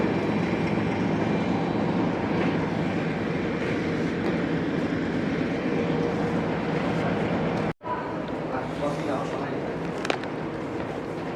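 A passenger train on the Romania to Hungary route gives off a steady, loud rolling rumble with a brief sharp break partway through, while people talk nearby.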